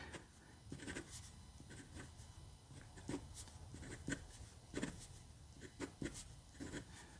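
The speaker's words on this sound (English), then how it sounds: "This nib is nice and smooth. It does give kind of a pencil-like audible feedback." A small Wancai eyedropper pocket fountain pen with a fine, smooth nib scratches across paper in soft, irregular strokes and taps, faint but close, with a pencil-like scratchy texture and no voices.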